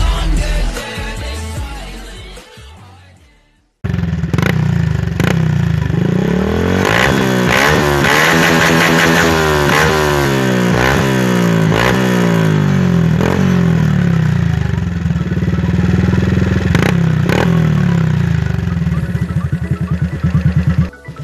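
A motorcycle with a KKD aftermarket exhaust pipe is revved hard nearby after some brief unrelated sound, its loud, deep exhaust surging up and down through repeated throttle blips before holding a high, steady roar.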